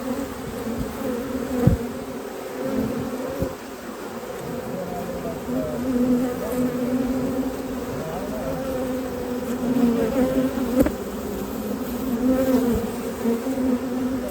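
Dense, steady buzzing of many honey bees around an opened hive during a honey harvest, continuous and close throughout with small swells in loudness, no talk.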